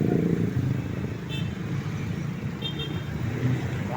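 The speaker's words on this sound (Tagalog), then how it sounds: "Traffic." Steady road traffic rumbles past in Pampanga, with engines droning continuously and a couple of brief high toots or horn-like chirps through the middle of the stretch.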